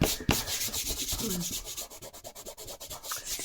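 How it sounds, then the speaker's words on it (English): Masking fluid rubbed off watercolour paper by hand, a close, continuous rhythmic scraping and rubbing that keeps a brisk back-and-forth pace throughout. "So get rid of all this masking fluid off there."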